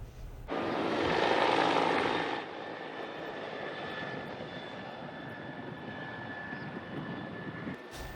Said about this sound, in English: The National Nuclear Security Administration helicopter spent more than 2 hours yesterday tracing a grid over the city of Milwaukee.